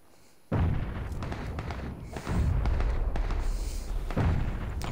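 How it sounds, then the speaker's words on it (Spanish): Heavy gunfire and booming blasts erupt suddenly and continue in loud, dense bursts in a PUBG battle, with no talking. "Yo estoy escuchando a la derecha que me están metiendo balazos."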